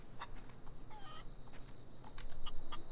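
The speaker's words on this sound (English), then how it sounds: "Is that a chicken?" A chicken in the video game The Outer Worlds, giving soft, scattered clucks and short chirps at moderate distance over a low ambient game background, with no talk.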